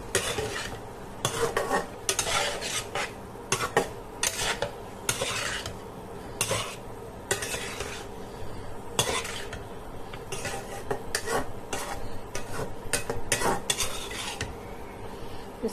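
A spatula stirs ridge gourd and fish in a metal frying pan, making steady scraping and clinking strokes with a light sizzle, loud and close with no talking.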